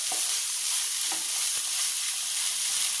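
Flattened rice upma being stirred in a pan, soft scraping strokes over a steady bright sizzle, close and continuous, with no talk.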